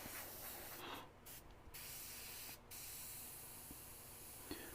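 An airbrush sprays thinned paint in a steady close hiss that cuts out briefly a few times, with no talk.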